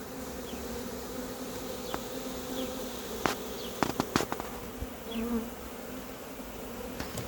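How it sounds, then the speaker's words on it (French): A dense swarm of honeybees being collected buzzes in a continuous drone, with individual bees passing close by and a few sharp knocks and taps from handling the hive. "il y a encore un paquet d'abeilles là"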